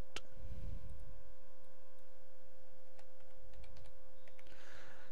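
Someone types a search term on a computer keyboard, a quick scatter of light clicking keystrokes over a faint steady electrical hum, no voices.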